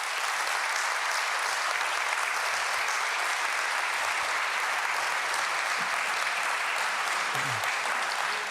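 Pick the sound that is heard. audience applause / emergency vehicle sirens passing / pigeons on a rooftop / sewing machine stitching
audience applause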